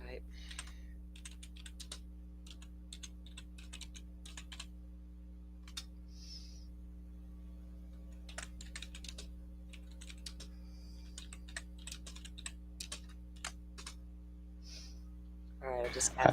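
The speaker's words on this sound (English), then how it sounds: "I could even hear your typing on your keyboard" Computer keyboard typing in a quiet room, a steady run of light, fast clicks and small bursts of keystrokes over a low constant hum, fairly close and faint, with no talking.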